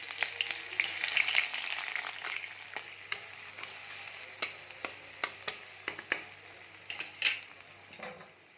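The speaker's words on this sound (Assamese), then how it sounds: "কেৰাহীটো গৰম হৈ গৈছে মই এতিয়া অকণমান পিঁয়াজ ঢালি দিছোঁ" Onions hitting hot oil in a heated wok crackle in a steady sizzle, with a burst of frying at first and then sharp, irregular pops and spatters continuing nearby for several seconds.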